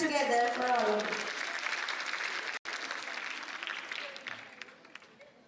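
An audience claps at an international nursing conference, loud sustained applause filling the room, starting under a speaking voice and fading gradually toward the end.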